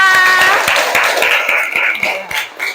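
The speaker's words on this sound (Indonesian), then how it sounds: "Tepuk tangan untuk kelompok 5" Students in an Indonesian classroom lesson on zakat clap for a presenting group, a run of fairly close, separate handclaps with tonal sounds and voices mixed in.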